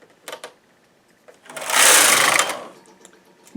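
A knitting machine carriage is pushed across a row of yarn, producing a loud mechanical whirring sweep in the middle of the clip, framed by a few scattered clicks and clacks of the machine before and after.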